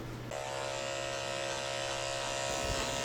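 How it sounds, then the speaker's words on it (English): Electric clippers switch on and buzz in a steady, close drone while shaving the belly of a slightly damp Australian Shepherd, the tone wavering slightly near the end. "I'm going to shave out her belly too, so it stays clean under there."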